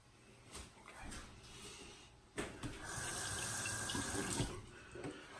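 Water from a bathroom tap running over a safety razor before shaving: a close, continuous splashing flow into the sink that swells and steadies, with a few clinks along the way.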